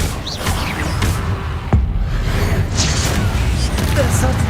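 A Confringo fire blast spell is cast in Hogwarts Legacy, a whooshing burst and boom over a dense, loud game mix, with a voice speaking over it.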